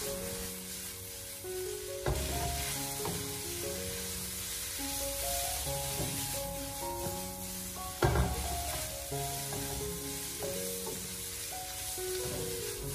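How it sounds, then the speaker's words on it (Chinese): Squid with green and red peppers is tossed in a wok over medium-high heat, giving a continuous sizzle under background music, with louder bursts as the food is flipped. "这个时候我们再把鱿鱼还有青红辣椒重新回锅，然后再立刻的将它调为中大火，将它快速的翻炒一下"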